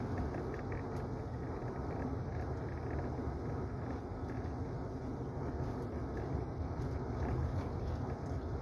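A 1997 Buick LeSabre with the 3800 V6 cruising at about 30 mph, heard from inside the cabin as a steady low road and engine rumble with faint wind noise and no talking.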